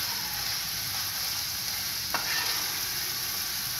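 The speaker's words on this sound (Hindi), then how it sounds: "ये देखिए चिकन जो है फ्राई हो रही है" Chicken frying in a pan, a dense, even hiss close to the mic with a single sharp clink partway through and no talk.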